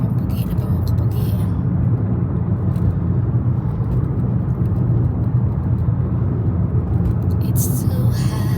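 Steady, loud roar of city road traffic with many cars passing, a continuous broadband rumble with no breaks, heard close by with occasional higher hiss bursts at the edges.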